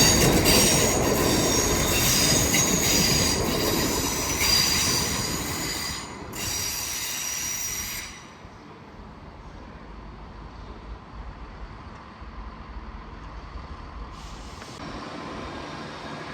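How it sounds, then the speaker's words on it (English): A Class 170 cross-country passenger train pulls into a station on a main line, loud rumbling and high wheel squeal that fade after about eight seconds to a quieter idling hum. "Soon to arrive in now will be the 1409 cross-country service from Stansted Airport to Birmingham New Street, led by 170"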